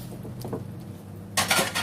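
Spoon scraping and clinking against a handi pot while chicken makhni with fried cumin, tomato, capsicum and green chillies is stirred, soft scrapes building to a louder burst of metallic clatter near the end, no talk.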